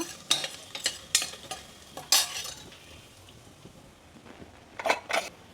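Food fries in a pan while a spoon stirs it, scraping and clinking in several sharp bursts over a soft sizzle, close up, with no voices.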